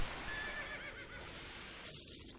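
A horse in Final Fantasy X-2 lets out a quiet, brief neigh over a faint background hiss, with no talking.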